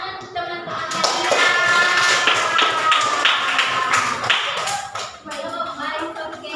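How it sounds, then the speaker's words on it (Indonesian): Classmates in a micro-teaching class clap for their peers, a quick patter of hand claps that rises, holds and trails off, with a voice briefly heard near the end. "Berikan tepuk tangan untuk teman-teman kalian."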